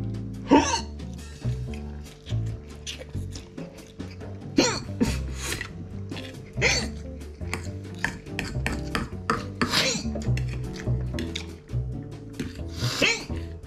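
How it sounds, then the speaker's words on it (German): A person hiccups repeatedly after eating extra-spicy Samyang Buldak fire chicken noodles, with sharp gulping jolts recurring every second or two, close to the mic, amid rustling and some faint talk. "Schluckauf ist da."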